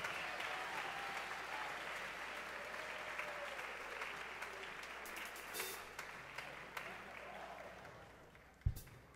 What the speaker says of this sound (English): Can we give the senior class a round of applause, please?